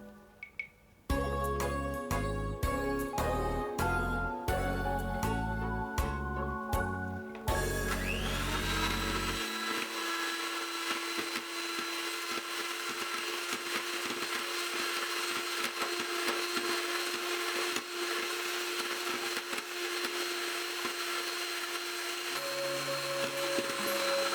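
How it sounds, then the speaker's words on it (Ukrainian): An electric mixer whips cream (30–36% fat) with powdered sugar, a steady loud whirring drone that runs almost the whole time, starting after a brief burst of clattering at the beginning. "всипаємо пудру та поступово починаємо збивати крем міксером"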